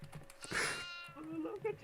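A goat bleats once in a wavering, nasal cry in the horror video game Devour, with a voice beneath it and a higher, shorter bleat following.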